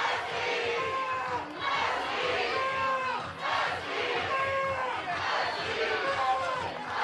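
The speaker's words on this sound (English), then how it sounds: "But this crowd is fired up." Softball stadium crowd during an NCAA game, loud and sustained cheering and yelling from many fans that rolls in waves with no break. A commentator's voice talks over it.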